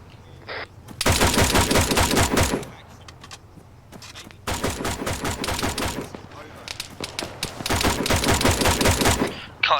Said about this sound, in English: Something sounds like a sniper fire.